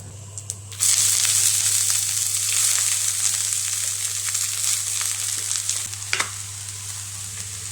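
Chopped red spinach sizzling in a pan of hot oil with chillies and curry leaves, a loud steady frying hiss starting after a quiet moment and continuing throughout, with occasional crackles and stirring scrapes.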